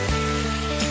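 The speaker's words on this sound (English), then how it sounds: "Add your beef back to the pan, give that a nice stir." Beef sizzling in a stir-fry pan as it is stirred with noodles and cashew nuts, giving a brief, loud, steady hiss of frying heard close up.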